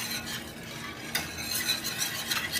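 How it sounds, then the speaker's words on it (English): A whisk stirs a warming vegan cheese sauce in a pot on the stove, making faint, steady scraping and clicking strokes with a low hiss beneath and a few sharper scrapes near the end. "So I'm just going to kind of whisk this up, let this get warm,"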